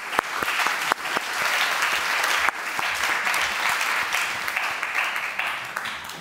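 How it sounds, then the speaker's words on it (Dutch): A seated audience at a student-themed discussion event gives a guest warm applause: a few crisp early claps quickly swell into dense, even clapping that carries on steadily throughout. "En geef haar een warm applaus."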